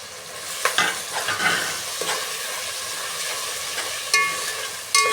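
Finely chopped tomatoes stirred into khichdi in a pan, a soft steady sizzle with intermittent scraping and a few sharp clinks of a spoon against the pan, close and fairly quiet, no voices.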